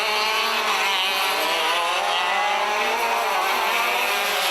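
Shifter karts in a KZ2 final at the New Zealand National Sprint Championships roar past on a race track, a dense, continuous high-pitched engine wail from several karts with no pauses.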